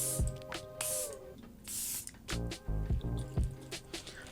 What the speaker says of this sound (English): Okay, so here's the airbrush spray.